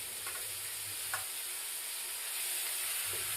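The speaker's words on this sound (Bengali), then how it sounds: "রসুন বাটাটা একটু ভাজা ভাজা হলে এবার পেঁয়াজ বাটাটা কড়াইতে আস্তে আস্তে তুলে দেবো" Garlic and onion paste frying in a wok, a faint, steady hiss and sizzle with a few soft stirring touches, with no talking.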